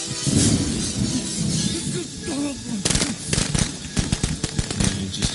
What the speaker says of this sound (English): Just awkwardly threw firecrackers.